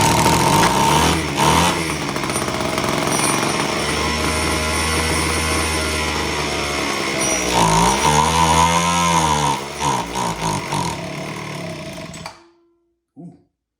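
A Homelite H17 two-stroke hedge trimmer engine runs loudly and roughly at close range in a garage, revving unevenly for about twelve seconds before cutting out abruptly, followed by a brief knock.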